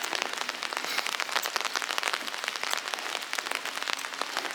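Steady rain at Suwon Hwaseong Fortress, a dense patter of drops hitting hard surfaces close by, even and continuous with no talking.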